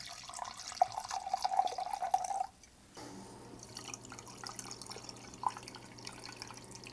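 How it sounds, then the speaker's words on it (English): A rum and coke being poured, with a thin stream of liquid trickling and dripping into a glass, then a pause and a softer fizzing, settling sound, heard close and quiet with no talking. "pour myself a rum and coke"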